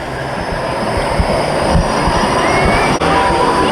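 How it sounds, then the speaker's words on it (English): Model train running at Epcot, crossing a little river, giving a steady close rolling rumble with faint wheel squeal throughout and no voices. "Here's this train crossing this little river."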